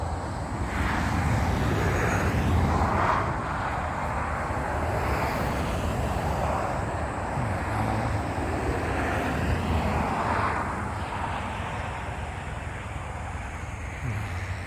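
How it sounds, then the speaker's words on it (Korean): An airplane passes overhead along a flight route above Korea's west coast at dusk, a broad, steady engine rumble rising and falling gently as it crosses, moderately distant and alone without talk. "또 비행기 한 대가 지나가고 있습니다."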